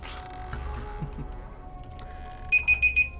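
The horror video game The Evil Within gives four short, evenly spaced electronic beeps at the end, ringing clearly over a low, murky game ambience.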